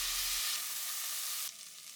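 Curry-marinated smoked turkey necks sizzle steadily as they brown in a pot, a dense frying hiss that holds loud and close before dropping slightly softer near the end.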